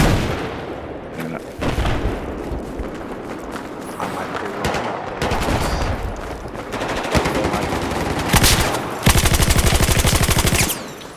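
Battlefield 4 gunfire rings out in repeated bursts and single shots over a dense in-game battle din, ending in a rapid, loud automatic volley near the close.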